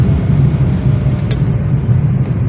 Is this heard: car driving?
yes